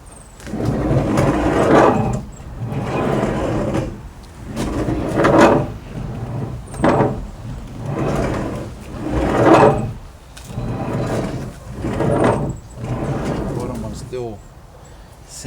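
Rear sliding door of a Toyota Tarago (Previa TCR10), after a hinge repair, slides back and forth repeatedly in rumbling, scraping strokes about every two seconds, close by, with people talking over it.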